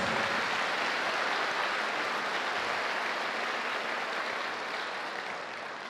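A church congregation applauds vigorously during a sermon, a dense, sustained roar of clapping that holds steady for several seconds before easing off a little at the end, with no voices over it.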